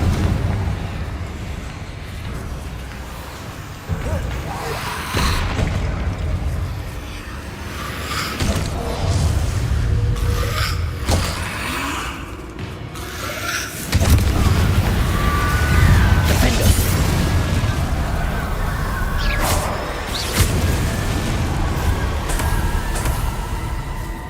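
Confringo blasting spells exploding in Hogwarts Legacy amid battle noise: repeated deep booms and crashing bursts over a dense, rumbling game soundscape, loud throughout with sharp impacts every few seconds.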